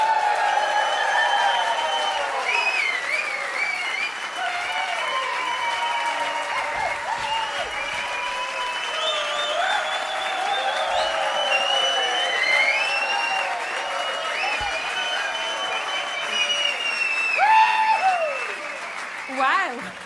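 A festival audience at a live Irish music show in Tübingen, Germany, cheers and claps in a sustained roar, with whoops and shouts riding over continuous applause that swells near the end.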